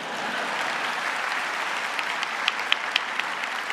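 Steady applause from a crowd at a college convocation ceremony, dense clapping throughout with a few sharper, louder claps standing out toward the end.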